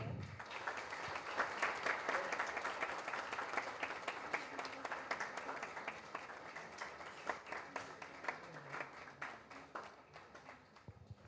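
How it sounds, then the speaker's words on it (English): A school audience honours the Delhi Metro managing director with a long, steady round of applause, dense clapping from many hands running for over ten seconds, with a faint voice now and then. "A huge round of applause for Sir."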